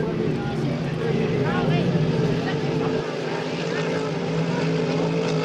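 Hydro350 racing hydroplane boats roar out of a turn on the St-Félicien course, a loud steady engine drone with shifting pitch and no break, while a commentator talks over it.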